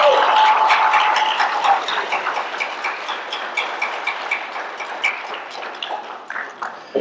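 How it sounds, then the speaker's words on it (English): Audience applause at a swearing-in ceremony for Scott Israel, a dense burst of clapping that starts strong and gradually thins into scattered claps over about seven seconds. "Please give yourselves a round of applause."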